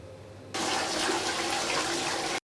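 A toilet flushes with a loud, steady rush of water that surges in sharply and holds strong for about two seconds before cutting off.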